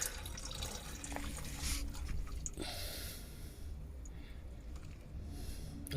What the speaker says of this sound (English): There goes my coolant.